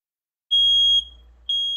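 Household smoke detector giving loud, piercing high-pitched beeps, one long tone then a short gap before the next begins, close and clear with no other sound.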